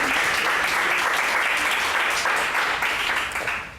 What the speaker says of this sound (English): Let's give a big applause to John and the Guild Complex